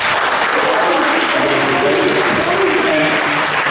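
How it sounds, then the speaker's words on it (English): A crowd applauds the light and sound crew, thick continuous clapping close by, with voices and cheering blended into the noise. "big round of applause for the light and sound crew"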